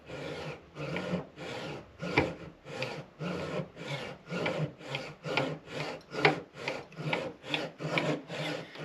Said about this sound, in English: And then I'm just going to take my saw and hold it right against